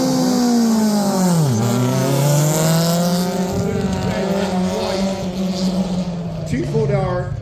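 Roadster race car at Silverstone, a loud nearby engine sweeping down sharply then climbing as it accelerates away, with a second pitch drop near the end and a commentator talking over it.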